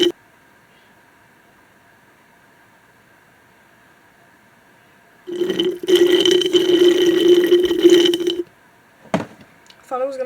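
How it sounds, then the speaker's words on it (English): Running water splashes onto a makeup sponge for about three seconds, a steady close hiss that stops abruptly, then a brief knock and soft rustle follow, with no talking. "I'm going to go wet my sponge"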